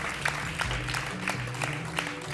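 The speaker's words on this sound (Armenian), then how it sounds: "ծափարում ենք այս զույգին" A studio audience applauds a dance couple on a televised ballroom dance competition show, with loud sustained clapping and a few cheers throughout.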